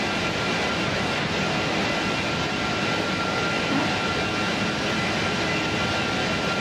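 Airbus A330 engine running in the X-Plane flight simulator, a loud, steady jet roar with a constant broad hiss and low rumble, unbroken and close throughout.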